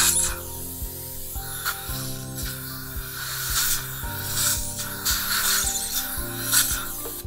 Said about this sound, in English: we'll use our little IPR strip to make sure that's a nice smooth transition up here at the gingival margin